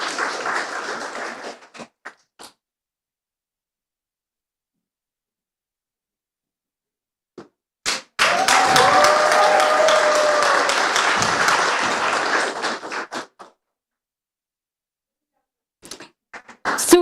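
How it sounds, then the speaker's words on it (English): Audience applause for a startup team at an open data accelerator demo day, two bursts of steady clapping separated by a long silence, the second burst fuller and lasting about five seconds, with scattered claps at the end. "Once again, round of applause."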